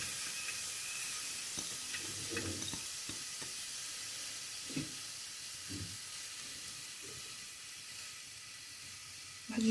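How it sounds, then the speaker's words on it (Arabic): Onion sautés in a little oil in a pan, giving a steady, quiet sizzling hiss throughout with a few soft stirring clicks, and no talking. "غندير البصلة تشحر مع شوية الزيت"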